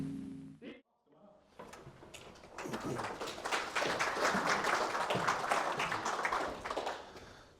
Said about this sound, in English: You might want to rescind that applause.